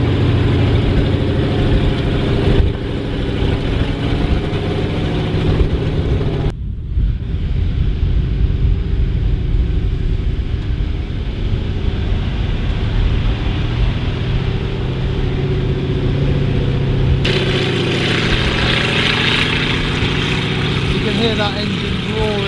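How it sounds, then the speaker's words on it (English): A Sherman tank's engine idles and runs steadily outdoors at close range, a continuous low rumble with wind buffeting the microphone and a brief drop in level partway through. "Hear that engine roaring like mad."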